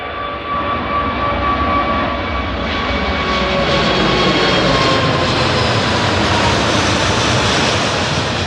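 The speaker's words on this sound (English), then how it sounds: "Plane spotting an A380 is awesome." An Airbus A380 airliner passes overhead at Birmingham Airport, its engines a loud, sustained roar that swells and holds steady for several seconds with no voices.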